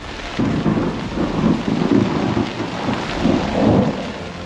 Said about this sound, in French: le vent il souffle de malade là